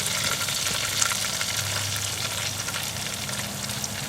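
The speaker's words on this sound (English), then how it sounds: "I hear the bacon sizzling" Bacon sizzles and crackles steadily in a Dutch oven, a dense, even hiss of frying fat that stays close and constant throughout.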